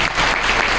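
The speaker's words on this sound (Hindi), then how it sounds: "मंगल पांडे, जोरदार तालियां।" A seminar audience bursts into loud, sustained applause, a dense continuous clatter of many hands filling the short moment.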